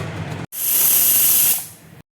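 A pressure cooker of mutton curry on a gas stove lets off one loud, sustained burst of hissing steam lasting about a second, which fades away before silence.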